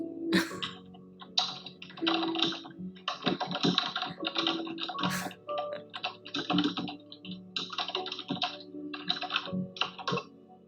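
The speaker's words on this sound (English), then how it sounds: "All I can hear is typing." Rapid computer keyboard typing in irregular bursts of clicks, close and steady, with a few brief pauses between runs of keystrokes, heard over an online voice call.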